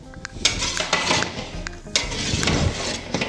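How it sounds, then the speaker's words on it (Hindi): A spoon scraping and clattering against a large pot of carrot halwa, with repeated close metallic knocks and scrapes in an irregular stirring rhythm. "आपने इस बात का ध्यान रखना है कि बार बार चम्मच को चलाते रहें ताकि ये नीचे से चिपके नहीं"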